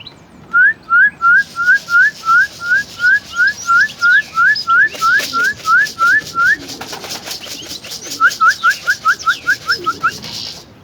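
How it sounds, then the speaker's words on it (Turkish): A person whistles to racing homing pigeons, a long series of short, rising tweets in a steady rhythm, pauses, then a quicker burst, with faint cooing and flapping behind. "Bunlar yem yediği zaman ıslık öttürüyoruz böyle."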